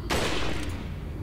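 A single gunshot in Resident Evil 4 remastered, a loud sharp crack with a ringing tail that fades over about a second, with no voices over it.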